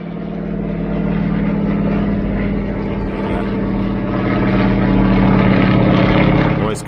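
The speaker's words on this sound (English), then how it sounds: "Russian trainer plane." A Russian trainer plane drones overhead, a loud steady propeller engine hum that swells and holds as it passes near, with someone speaking briefly over it outdoors beside a boat.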